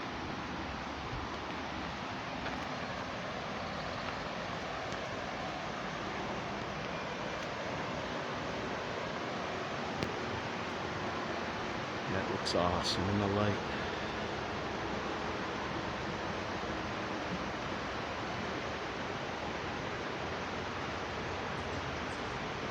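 Steady broadband rush of a creek flowing through the woods along a bridle trail, continuous and fairly loud throughout, with a brief spoken remark partway through.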